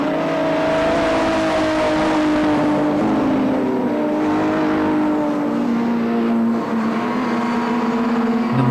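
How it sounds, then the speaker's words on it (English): 1950s sports cars, including Austin-Healeys, race around a circuit, their engines a sustained loud drone that rises and falls in pitch as they brake and accelerate through a complex of corners. "David Summerson closing up under braking through the complex."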